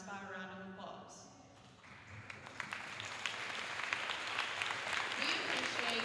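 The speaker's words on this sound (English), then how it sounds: "stand and be recognized by a round of applause" Applause swells from the bleachers at a high school varsity volleyball senior night as parents of the team stand to be recognized. A voice talks briefly at the start, then dense clapping builds and stays steady and loud.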